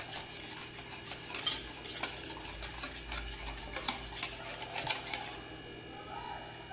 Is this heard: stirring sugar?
yes